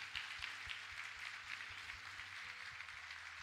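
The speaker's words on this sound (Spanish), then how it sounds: "Un aplauso al Señor" Church congregation applauding during a service, a steady wash of clapping from many hands at moderate distance, with rhythmic low thumps running underneath throughout.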